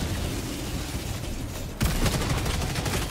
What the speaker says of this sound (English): Someone else is shooting me, though.